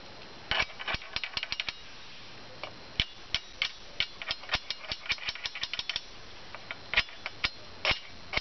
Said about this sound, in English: So the screw has been fastened.